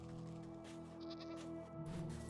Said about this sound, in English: More goat.